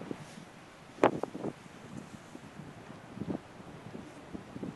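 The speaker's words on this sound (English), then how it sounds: "that's a stiff 30 to 40 mile per hour wind" A stiff 30 to 40 mph wind buffets the microphone on an open disc golf course, with rough gusting rumble and a sharp blast near the start, sounding loud and close with no speech.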